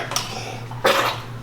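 A single sharp sneeze bursts out midway through a family living room scene, brief and fairly close, against a steady low room hum.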